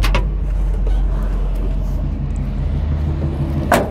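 Nearly 35-year-old manual pickup truck pulling away, a steady low engine rumble close by with a brief sharp hiss near the end.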